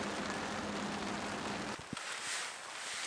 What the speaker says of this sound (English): It's raining pretty good.